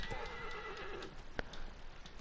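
A horse whinnies in Shadow of the Colossus, a continuous neigh of moderate loudness running through most of the stretch, with soft hoofbeats and a sharp knock near the middle.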